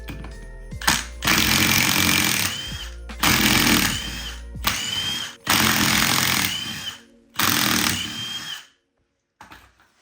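A power tool loosens the ring gear bolts on an F23 transmission in a garage, in four loud rattling hammering bursts, each lasting a second or two, with short pauses between them and silence at the end.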